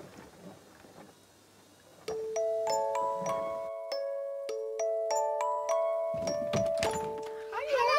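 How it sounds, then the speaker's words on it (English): A melodic electronic doorbell chime plays a sequence of bright, ringing tones that sustain and overlap, following a quieter stretch of faint background murmur. "When the doorbell rings"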